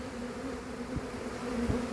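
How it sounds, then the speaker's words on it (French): A honeybee swarm being hived buzzes in a steady low drone near the hive entrance, continuous and close, with a few louder passes of individual bees. "On voit des mouvements d'abeilles."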